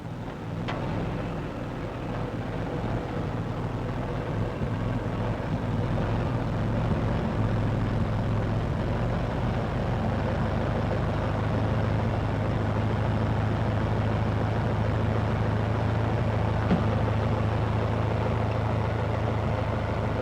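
A car being driven around nearby, heard as a steady engine drone and road rumble that holds through the whole stretch with no talking.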